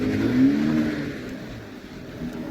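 Large cars belonging to neighbourhood partygoers rev their engines, a loud throaty burst at the start that eases into a lower rumbling drone, heard without any talk.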